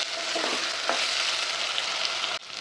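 Potato pieces fry in a pan for aloo rice with a loud, close, continuous sizzle and a few soft stirring scrapes, then a brief dip near the end before the frying continues.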